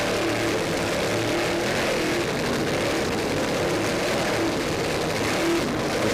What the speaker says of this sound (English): 38-foot scarab is powered by two 700 horsepower What's Up racing engines